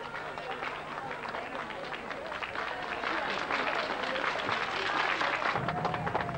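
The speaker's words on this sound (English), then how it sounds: "Their applause floated down to the Queen Mother's ears." Crowd of Venetian residents applauding the Queen Mother during a visit to Venice, a dense, steady patter of clapping heard from some distance that swells slightly louder halfway through.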